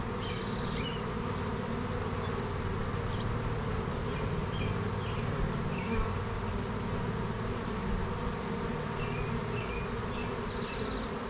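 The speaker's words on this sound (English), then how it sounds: "There's the first bee that has her butt in the air and started fanning." Honeybees at a swarm box hum and buzz steadily, with fanning bees adding a dense, continuous drone that holds close and even from start to finish, with no voices.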